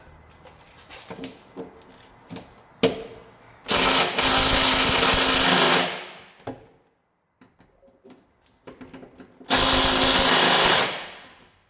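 An impact wrench works a rusted crossmember bolt under a vehicle, firing two loud, sustained hammering bursts of about two seconds each, separated by quieter clanks and handling noises in a garage.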